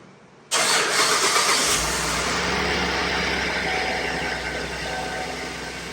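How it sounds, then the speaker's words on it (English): A Chevy Traverse engine cranks and fires with a sudden loud roar, then settles into a steady, slowly easing idle. "So now once you have your engine running"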